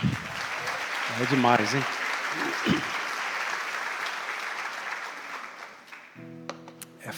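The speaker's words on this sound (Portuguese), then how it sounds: "Dê um aplauso para Jesus." A church congregation applauds in a sustained, dense wash of clapping, with someone speaking and another voice calling out over it.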